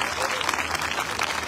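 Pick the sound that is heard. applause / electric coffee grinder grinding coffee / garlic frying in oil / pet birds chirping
applause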